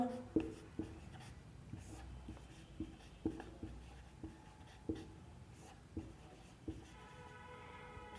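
A pen writes on paper as fractions are written out in a math lesson, giving faint, evenly spaced taps and scratches over a low background hum.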